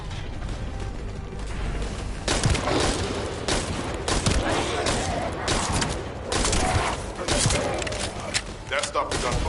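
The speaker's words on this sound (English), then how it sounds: "That stopped the gunfire." Gunfire in The First Descendant video game: dense, crackling volleys of shots and mechanical clatter in loud repeated bursts, with voices talking among the noise.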